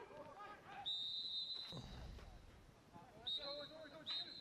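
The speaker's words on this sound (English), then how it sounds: "There goes the final whistle." Referee's final whistle at a Crystal Palace U21 versus Middlesbrough U21 Premier League 2 football match, several sharp, shrill blasts heard faintly in the distance over crowd noise, while commentators talk.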